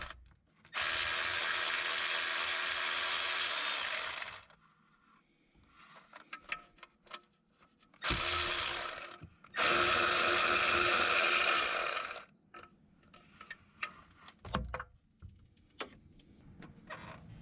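A powered ratchet or socket tool backing out transmission cover bolts on a Hyundai Santa Fe, with three loud sustained whirring bursts of a few seconds each, separated by quieter clicks and metallic handling, close with no talking.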